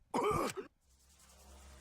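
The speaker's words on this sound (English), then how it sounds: "oh my god, he's coughing" Character in the Danganronpa V3 video game giving a short, loud, throaty cough or groan, followed by faint background game sound.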